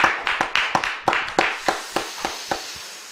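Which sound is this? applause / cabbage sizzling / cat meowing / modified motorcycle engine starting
applause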